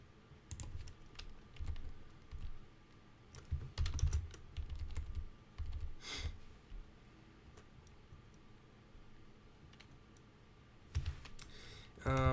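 Keys clatter on a computer keyboard in bursts of quick typing separated by pauses, close and moderately loud, with a few sharper clicks near the end and no talking.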